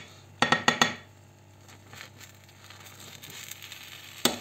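A worn non-stick frying pan holding an omelette casserole gives a quick cluster of metallic clinks and scrapes as the food is flipped, then low sizzling, and another clatter near the end, no voices.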